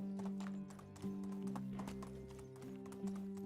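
Horse hooves clip-clopping at a gallop over rocky ground in the medieval game Medieval Dynasty, a steady rapid rhythm close up with whinnies and layered music underneath.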